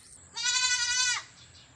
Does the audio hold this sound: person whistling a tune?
no